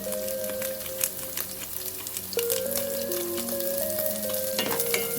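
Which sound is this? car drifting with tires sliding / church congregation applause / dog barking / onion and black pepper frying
onion and black pepper frying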